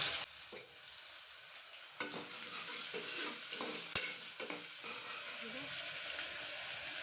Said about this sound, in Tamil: ஒரு தக்காளி பொடியாக நறுக்கி வச்சுருக்கேன் அதையும் இது சேர்த்து வதக்கலாம்